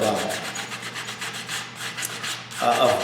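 A disc of sandpaper taken from a sander is rubbed by hand over a model build. It gives a steady, close, rhythmic scratching of repeated back-and-forth strokes for about three seconds, with no voices.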